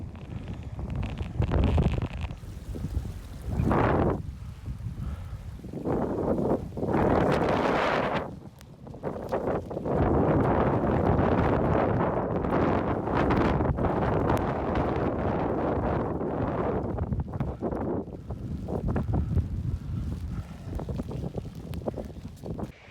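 Strong wind gusts roar across a rocky mountainside in Snowdonia in rainy weather, buffeting close against the microphone in long surging waves with brief lulls, no voices heard.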